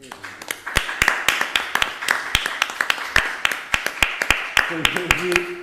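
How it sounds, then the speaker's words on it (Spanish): Scattered hand claps ring out steadily, sharp and fairly close, forming applause from an audience at a university Constitution Day ceremony that continues throughout. "Que he sido aplaudido por unanimidad."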